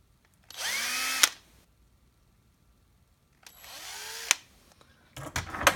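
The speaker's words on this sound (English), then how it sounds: "I'm just going to drill these two rivets out." A power drill whirs in two separate bursts with a quiet pause between, each rising in pitch as it bites into a rivet on a Peterbilt truck, then a clatter of metal at the end.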